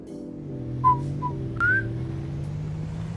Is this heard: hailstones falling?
no